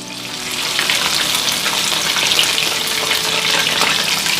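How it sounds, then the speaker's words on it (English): Coated chicken pieces for orange chicken deep-fry in hot oil, giving a loud, dense, crackling bubbling roar that holds steady and close throughout. "I want to fry these for at least 7 minutes."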